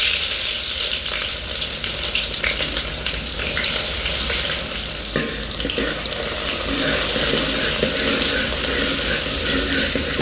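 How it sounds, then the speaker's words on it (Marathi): Garlic and onion fry in hot oil, a loud, continuous dense sizzle with running, watery texture and occasional stirring clinks throughout, no talking over it. "आणि लसूण असा लाल होत आला की मग कांदा टाकायचा."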